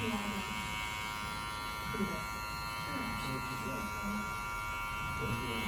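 Electric hair clipper buzzing steadily while cutting hair for a drop fade, a continuous close hum through the whole stretch with faint talk underneath.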